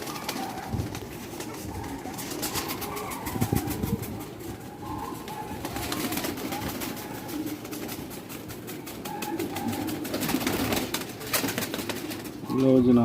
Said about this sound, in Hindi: बहुत ही आला क्वालिटी के कबूतर ने।